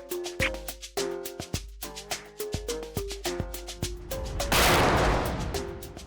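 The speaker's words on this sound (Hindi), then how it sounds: "अबे पीछे से क्या गोली चला रहा," Gunshots ring out in a rapid series of sharp, loud cracks, roughly a dozen evenly spaced blasts fired from behind, ending in a longer burst of noisy crackle; no one speaks over them.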